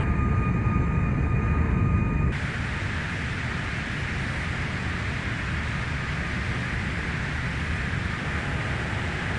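An airliner takes off in the game Unmatched Air Traffic Control: a steady, broad jet-engine roar, loud and unbroken, holding for several seconds with no voices over it.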